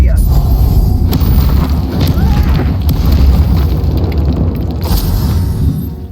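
A fire-spell blast is cast in the Hogwarts Legacy video game, making loud, rolling booms and rumbling bursts that continue throughout, with voices mixed in.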